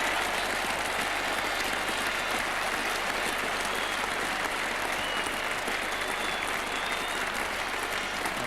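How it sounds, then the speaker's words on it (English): Sustained crowd applause fills Lord's cricket ground during the 1981 England v Australia Test, a dense, steady wash of clapping from a large stadium audience, even and unbroken throughout. "And a great round of applause as well for Peter Willey's 50."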